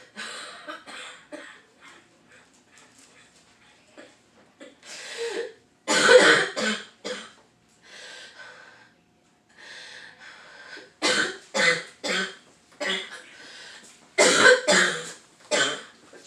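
A person with a suspected Covid-19 illness breaks into a coughing fit, with bursts of harsh, repeated coughs that grow louder and more clustered in the second half, separated by short pauses and breathing.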